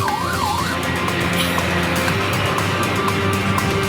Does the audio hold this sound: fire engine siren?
yes